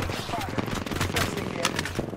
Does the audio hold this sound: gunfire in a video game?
yes